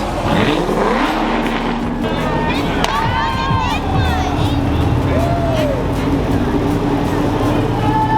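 A loud car engine roars at a rally launch party in Denver, a steady heavy rumble close by with a brief rev. Crowd voices and talk carry on over it throughout.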